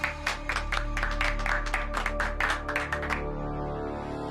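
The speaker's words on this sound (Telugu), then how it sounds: "చప్పట్లు కొట్టండి" A group of college students in a classroom claps in welcome, a steady run of close, fairly loud hand claps for about three seconds over a sustained background hum, then the clapping stops.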